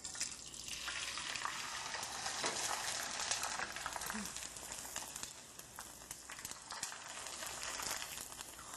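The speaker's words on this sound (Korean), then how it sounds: "당면을 먼저 기름에 튀겨서 제가 건져내 볼게요" Glass noodles deep-frying in hot oil, a dense, continuous bubbling hiss and crackle that holds steady for the whole stretch, close and fairly loud.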